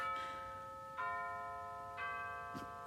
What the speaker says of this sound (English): it always chimes at the most inappropriate times